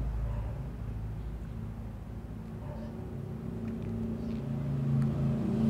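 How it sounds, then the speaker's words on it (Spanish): Road traffic passing outside a home where many cars go by, a steady low rumble of engines and tyres that swells slightly toward the end, with no voices. "Disculpen si se escuchan los autos."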